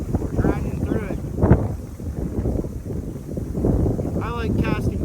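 Wind gusting across the microphone at a riverbank while fishing in early spring, a steady rushing noise under a person's talking.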